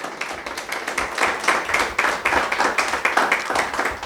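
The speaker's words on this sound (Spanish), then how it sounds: "Dale el aplauso al Señor." A church congregation applauding during a worship service, with dense, evenly pulsing clapping that holds rhythmically throughout.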